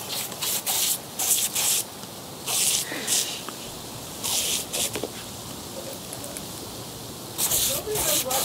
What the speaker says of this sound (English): now you're gonna get the hose